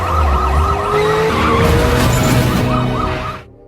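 Police cars race after a fleeing car at high speed in a film chase, engines roaring loud and close with tires skidding and a siren wailing over the din before the sound cuts off abruptly.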